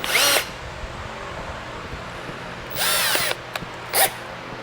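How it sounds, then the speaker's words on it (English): A cordless drill spins a cotton swab loaded with aluminum polish to buff out the seat on a Honda Rebel 250 motorcycle, with three short whirring bursts, close and fairly loud, separated by quiet pauses. "And I'll just put it in the tip of my drill."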